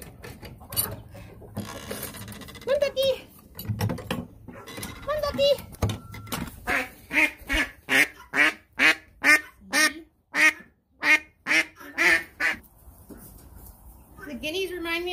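A duck quacks repeatedly in a quick, regular series of loud, close calls, preceded by scattered clicks and rustling.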